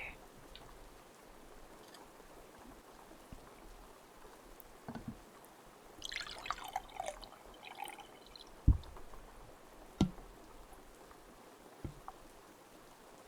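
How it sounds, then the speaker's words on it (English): Water is poured into a cup during a quiet, close-up ASMR nurse roleplay, heard as a soft, brief trickle among faint taps and drips, with no talking. "Let me just go ahead and pour you some water."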